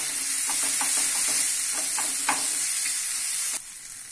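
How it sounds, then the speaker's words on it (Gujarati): Vegetables sauté in a pan under a continuous sizzling hiss, with a series of spatula scrapes and stirs. The sound drops off abruptly near the end. "હવે આને આપણે 1 મિનિટ સાતડી લઈશું."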